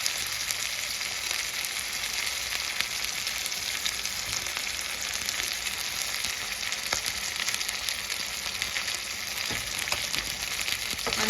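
Goat brain (bheja) fries in a little oil in a pan, a dense, loud, continuous sizzle that holds evenly close-up throughout, with no talking.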